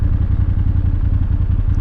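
BMW 750 motorcycle engine idling close by with a steady, throbbing low rumble and light mechanical clatter, holding even throughout with no throttle blips.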